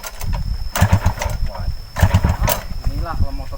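An old motorcycle engine struggles to start, sputtering in uneven bursts that catch and die, close and loud, with people talking over it.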